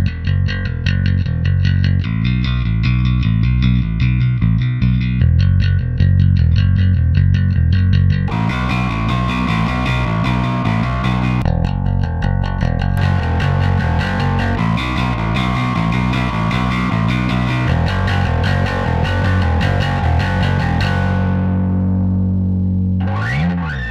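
Bass guitar played through an overdrive and distortion effect pedal, with repeated thick, fuzzy riffs and sustained notes, loud and continuous, ending on a falling slide.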